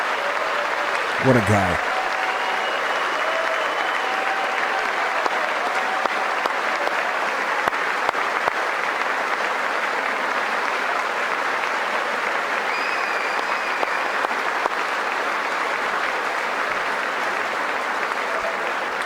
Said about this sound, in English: Rousing round of applause from all the military members there